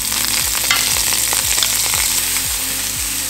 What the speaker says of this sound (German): in eine Pfanne gebe ich ein bisschen Olivenöl und dann meinen Seitan direkt aus dem Glas wieder